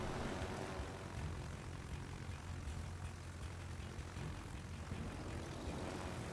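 Carrier planes from the Midway drone steadily in World of Warships, a continuous even roar of aircraft engines with no pauses and no talk.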